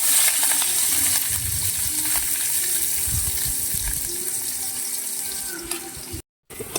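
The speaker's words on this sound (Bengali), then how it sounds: "আমরা দিয়ে দেবো পেঁয়াজ" Onions frying in oil for a country chicken curry give a steady broadband sizzle with faint stirring clatter, loud and close throughout, cutting out briefly near the end.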